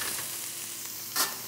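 Wild boar meat stir-frying in a wok, browning over a steady close sizzle with a brief louder hiss of movement near the end.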